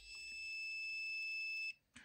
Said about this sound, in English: So it does a loud beep